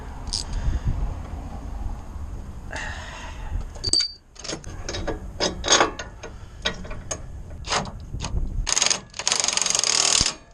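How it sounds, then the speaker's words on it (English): Truck bolts being tightened to torque spec with a ratcheting wrench, close and loud, with rapid clicking ratchet bursts, metallic clinks and hand movements in irregular spurts and a harsh scraping burst near the end. "Torque these down to spec."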